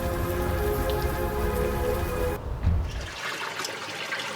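Steady rain patters and hisses on surfaces in the Unavowed video game, a dense close wash that changes character partway through as the scene shifts.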